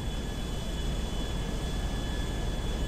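A GTA 5 airplane in flight, a steady, unbroken engine drone with a constant hum, heard alone without talk.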